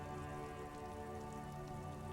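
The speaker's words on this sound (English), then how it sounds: "Rain falls down on the world." Steady rain falls in the video game Disco Elysium, a soft continuous patter of drops on surfaces at low volume, with a faint musical drone underneath and no voices.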